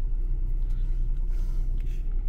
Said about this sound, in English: I'm just driving to the winery right now